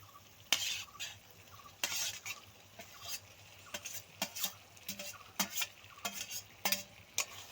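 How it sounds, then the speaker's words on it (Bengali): Mourala fish is stir-fried with masala in a pan, with frequent sharp spatula scrapes and clinks over a faint sizzle in an irregular rhythm, close but quiet and with no voices. "মাছ দিয়েও খুব ভালো করে কষিয়ে নেব মশলার সঙ্গে"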